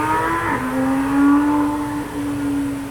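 A car engine in mid-throttle pulls, a steady rising drone with a brief dip near the start, holding a fairly loud, even tone throughout.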